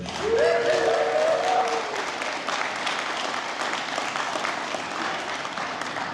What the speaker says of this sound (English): that's going to be an easy applause line all night long